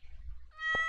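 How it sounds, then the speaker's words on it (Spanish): A hungry, neglected-sounding cat meows once in the Stardew Valley farming game, a single loud, drawn-out cry with a bright harmonic tone rising after a low rumble of game background. "Pobre gato, ese gato tiene que estar muriendo de hambre desde hace quién sabe cuántos tiempo"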